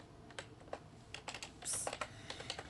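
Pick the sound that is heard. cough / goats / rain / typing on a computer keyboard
typing on a computer keyboard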